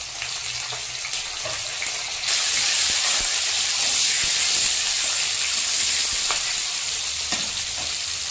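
Chopped tomato and green chillies dropped into hot oil in a pan: a dense, loud hiss that swells sharply after a couple of seconds and then holds steady, with a few light utensil taps and no voices.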